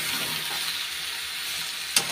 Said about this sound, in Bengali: তো এখন গরম জলটা ঢেলে দেবো